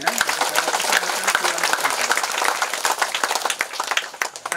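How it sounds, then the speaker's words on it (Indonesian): A crowd bursts into dense, sustained applause, many hands clapping at once, loud and close throughout. "Kita berikan tepuk tangan untuk komunitas Yana."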